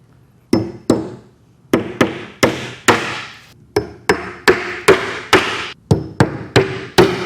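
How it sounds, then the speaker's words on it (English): A great-grandfather's old hammer driving nails while shelving is built from 2x8 boards, with about fifteen sharp, loud strikes close by. The blows come in quick, fairly even bursts with short pauses and no talk. "Hammer still works real good."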